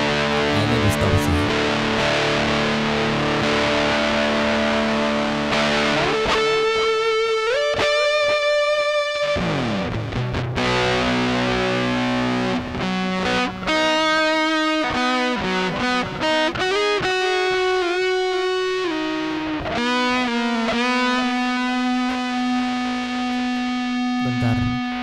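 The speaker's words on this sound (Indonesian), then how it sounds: "Distorsi." Heavy distortion from a Zoom guitar effects unit colours loud, sustained electric guitar chords and riffs, played continuously and close with thick saturated harmonics and no talking.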